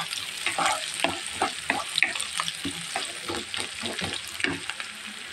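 Chopped onions frying in a pan while being stirred, a dense close sizzle broken by repeated rhythmic scraping strokes of a spatula, no voices.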